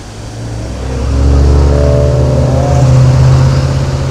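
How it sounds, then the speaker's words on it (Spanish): At night on the road to Mérida, a car engine swells from low to a close, loud steady roar as it passes, its engine tone holding near and strong. "vamos viendo el tráfico de los autos"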